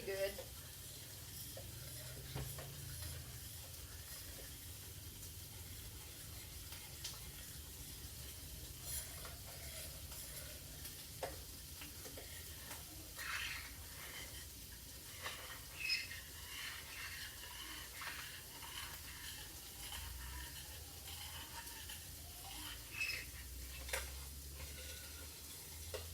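Sausage sizzles steadily in a pot while cooking for gumbo, with soft stirring scrapes and occasional clinks over the constant fry. Faint talk sits in the background.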